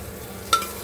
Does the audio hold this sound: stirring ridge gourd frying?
yes